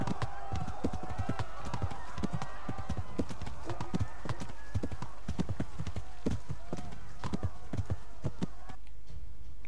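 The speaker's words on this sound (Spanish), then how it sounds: "el trote y la velocidad progresiva del caballo" A horse's hooves trot in Kingdom Come: Deliverance, a steady, rapid clip-clop that runs continuously and prominently throughout, with an occasional faint whinny.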